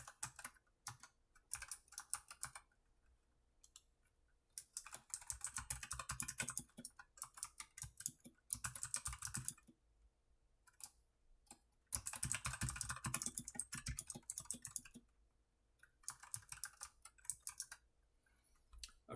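Someone types on a computer keyboard to fill in a web form, producing quiet close clicking in bursts of rapid keystrokes separated by short pauses, with no talking.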